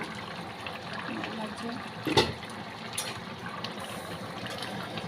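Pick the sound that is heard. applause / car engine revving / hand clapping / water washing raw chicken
water washing raw chicken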